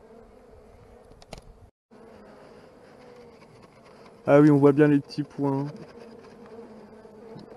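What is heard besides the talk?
honeybees buzzing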